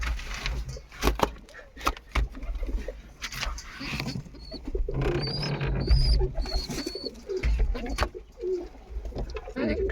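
Pigeons cooing and calling around their nest boxes, where birds sit on eggs and chicks, with repeated soft low coos and scattered wing flutters and thumps, a few higher chirps mixed in, all fairly close.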